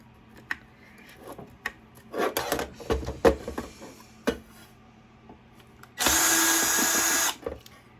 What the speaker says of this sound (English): I don't like to use the drill because it makes noise and then I can't talk.